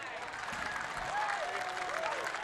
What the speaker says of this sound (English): The defender next to me is applauding